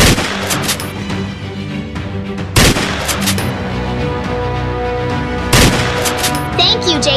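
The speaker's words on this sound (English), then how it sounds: "He won't like the sound of my shotgun!" Shotgun fire in the Minecraft video game: three sharp, loud blasts about three seconds apart, cutting through a dense, continuous backdrop of game sound.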